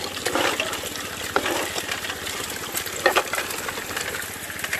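A Gold Fox trommel washing rocks with water at an Alabama gold camp, a steady rushing, churning wash with rattling stones tumbling through, continuous and close with occasional louder splashes.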